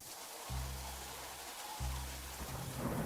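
Steady rain pours down while two deep, rumbling thunderclaps boom out one after the other, with no voices present.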